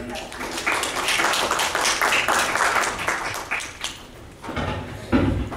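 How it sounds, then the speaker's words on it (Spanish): Audience applause at a tax auditing diploma course session, a steady patter of clapping from a seated crowd that fades out near the end before a brief burst of noise. "aplausos para ella"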